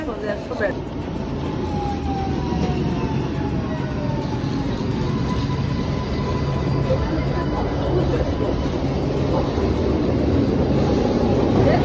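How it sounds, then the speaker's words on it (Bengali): An open metro train approaches with a steady, building rumble and rail screech, loud and continuous as it draws near, with faint crowd noise around it. "এই যে আমাদের খোলা মেট্রো চলে আসতেছে"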